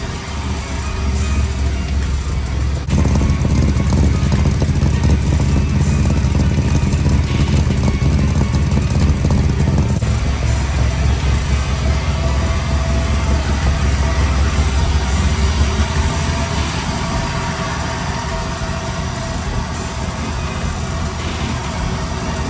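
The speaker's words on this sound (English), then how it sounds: "Cold crank." LS-swapped 1972 Chevrolet Impala engine running after a cold start: a loud, close, steady rumble that shifts pitch at about 3 and 10 seconds as the idle settles, with no talk.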